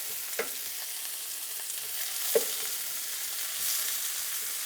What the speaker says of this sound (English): take some thinly sliced onion and just get that in a pan with hot oil